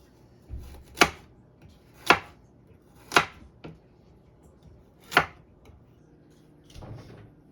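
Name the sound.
slicing carrots with a knife for soup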